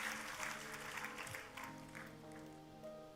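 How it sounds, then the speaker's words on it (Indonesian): Church congregation applauding in a worship service, a broad, steady wash of clapping from a large crowd, held at an even level throughout with no voices standing out. "Ayo buat Tuhan kita kasih tepuk tangan yang paling meriah sekali lagi."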